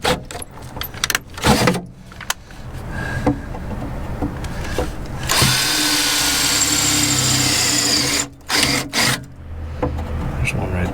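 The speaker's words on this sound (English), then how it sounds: "I'm not drilling these out as big because these are smaller spot welds." A power drill bores out spot welds on a rusty Jeep Cherokee XJ floor, with loud grinding bursts, a long steady drilling stretch in the middle and short pauses between cuts.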